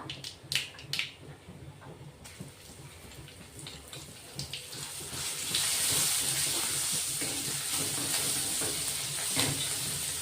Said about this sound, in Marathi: फोडणी छान परतून घेणार आहेत आपण